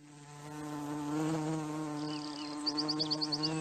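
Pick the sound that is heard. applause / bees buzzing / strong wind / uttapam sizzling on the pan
bees buzzing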